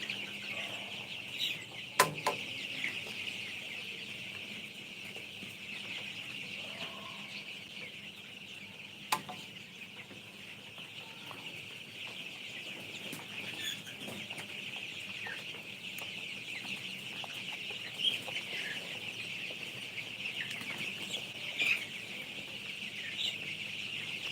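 Color bar chickens raised by RMR company on a poultry farm give scattered soft clucks over a steady hum of fans or machinery, distant and faint, with no talk.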